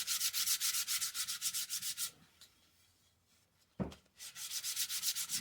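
Rhythmic back-and-forth strokes of sandpaper rub the edges of a wooden bottle opener, a quick scratchy swishing that pauses for a moment with a thump, then resumes at the same pace, close and fairly quiet.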